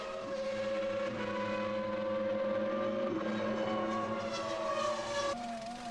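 A McLaren Formula 1 race car from the 1998 season, kept running in fourth gear after going off the circuit in front of the pit lane, holds a loud, continuous, high-revving engine note whose pitch wavers slightly.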